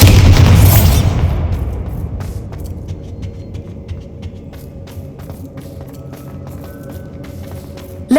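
A Bombarda blasting spell exploding in Hogwarts Legacy: a loud booming burst that rolls off into a long fading rumble with scattered small crackles and debris pops as it settles.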